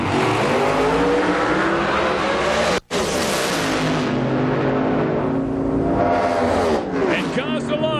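A Pro Modified nitrous drag race car makes a run at an IHRA Rocky Mountain Nationals event, a loud sustained engine roar throughout that briefly cuts out, with an announcer talking over it.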